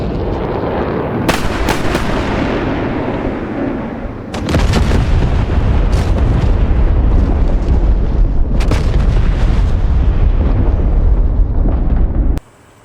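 JDAM bombs from an F/A-18C strike ground units in the DCS flight simulator, a run of heavy booming explosions, several sharp blasts layered over a loud continuous rumble that suddenly cuts off.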